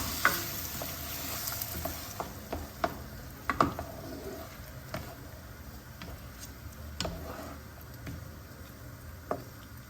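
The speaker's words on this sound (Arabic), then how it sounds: "غنخليو هاد الكريمه طيب مع هاد الدجاج ومع هاد الفطر" Cooking cream simmers with chicken breast and mushrooms in a pan, a low steady sizzle punctuated by irregular clicks and taps of a spoon stirring against the pan.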